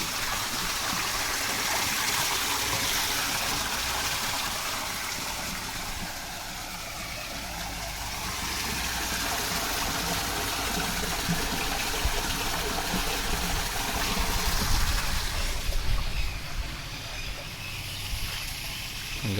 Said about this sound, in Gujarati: અહીંથી પાણી ચાલી રહ્યું છે.